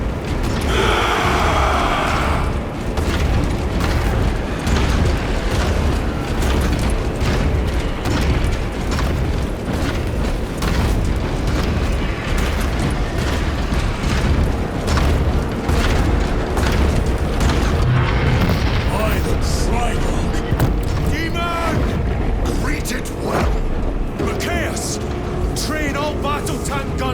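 Warhammer 40k video game battle with heavy booms, explosions and mechanical clatter, rapid bursts of weapon fire and blasts rolling continuously, loud and dense, with voices shouting under the din.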